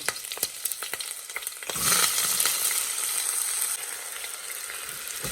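Masala frying in hot oil in a pan, with scattered clicks of stirring at first, then a loud, steady, close sizzle that swells and holds to the end; no voices.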